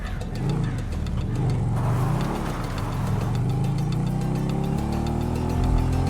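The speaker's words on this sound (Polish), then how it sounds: "Tak, to jedziemy sobie na motorku." A motorcycle engine in the video game GTA V hums steadily throughout at a loud, even drone, its pitch rising gradually as the bike rides along.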